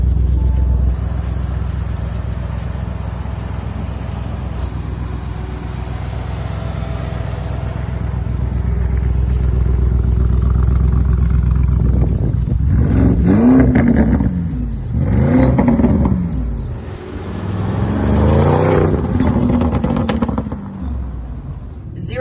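A supercar or hypercar launches hard from a stop, a rising whirring drive note building under excited talk and exclamations from people inside, loud and close, easing off near the end.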